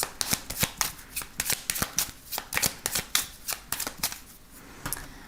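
A 32-card deck being shuffled for a card reading, with a steady run of crisp riffling and snapping bursts close to the mic and no talk.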